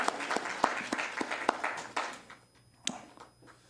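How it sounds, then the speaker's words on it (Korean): Church congregation at a Sunday worship service claps in applause, a scattered burst of hand claps that thins out and fades, with a last few isolated claps near the end. "영광의 박수를 돌립니다."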